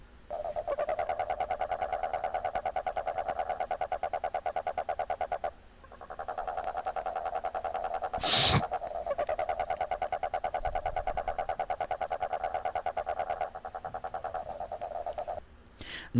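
A cane toad (Rhinella marina) calls in long, steady, rapid pulsed trills, loud and close, broken by a short pause and one sharp knock midway, with no talking.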